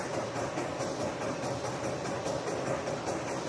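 Steady rumbling roar of a train rolling along the tracks, with a faint rhythmic clatter, continuous and close throughout.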